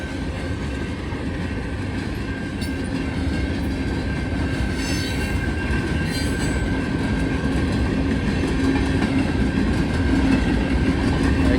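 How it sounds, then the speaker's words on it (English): A train rolls steadily through a railroad crossing, a continuous loud rumble of wagons and wheels on the rails with faint squealing, lasting the whole time with no talk. "I'm going to go capture the end of this train"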